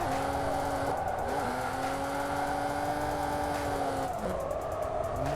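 Car tyres sliding during a drift in the Assetto Corsa racing game, warm tyres screeching steadily over a loud, continuous engine drone, with the pitch dipping briefly as the slide shifts.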